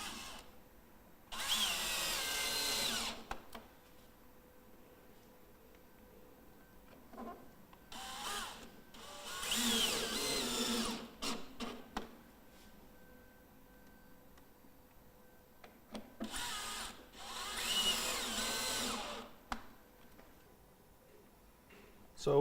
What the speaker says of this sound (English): Then simply fasten to the frame using the small grey screws in the flashing kit.